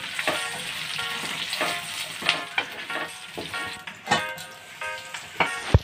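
Gongura leaves fry in a pan, giving a steady close sizzle with crackling pops and occasional stirring scrapes, no voices over it.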